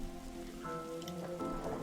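Steady rain patters in The Darkside Detective video game, a continuous wash of drops on a surface running under background game music for the whole stretch.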